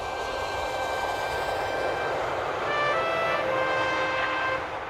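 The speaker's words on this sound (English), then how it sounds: "Then he heard a loud noise in the sky. A jet plane was coming in to land." A jet plane coming in to land near an airfield with a hangar and windsock, its engine a loud, steady roar with a high whine that swells slightly partway through.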